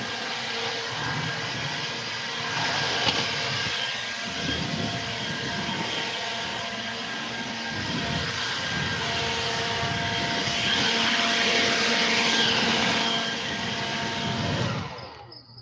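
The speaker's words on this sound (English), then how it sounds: "use the old blower on them" An old blower runs to clear stink bugs away, giving a loud, steady, broadband roar with no pauses before it cuts off sharply at the end.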